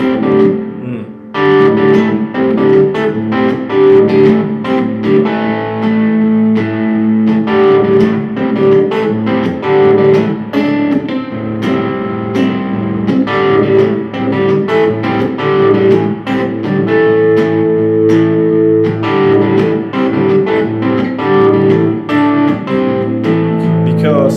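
A guitar plays a song at a fast tempo, a dense, steady stream of notes that runs unbroken for over twenty seconds at an even, fairly loud level.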